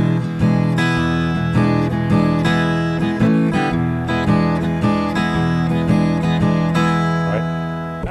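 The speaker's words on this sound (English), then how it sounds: "let me show you what a shuffle groove is here. I'll play it on the guitar" Acoustic guitar plays a blues shuffle groove, strummed chords and bass notes in a lopsided loping rhythm, close, full and steady with no voices.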